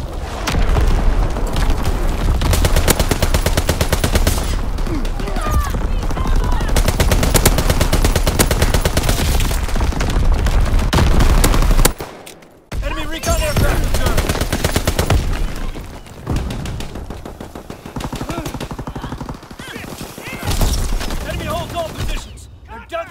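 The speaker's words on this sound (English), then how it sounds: "Incoming enemy artillery!" Heavy sustained gunfire with booming enemy artillery in a Call of Duty WWII multiplayer match, loud and continuous for long stretches with a brief lull, voices calling out in between.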